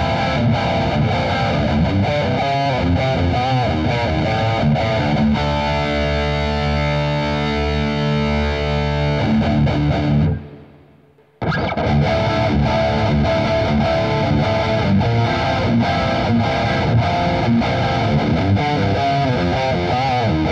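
Heavily distorted electric guitar played through a PRS Archon 50 head into a V30 4x12 cabinet, loud and sustained with chugging riffs and held chords, briefly dropping to silence near the middle before the riffing resumes.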